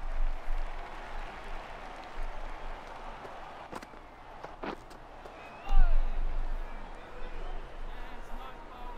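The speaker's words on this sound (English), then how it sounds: "the crowd appreciates some very good running" Crowd applause and cheering from the cricket video game Don Bradman 14 swell steadily under a commentator's voice, with a louder burst of cheering partway through.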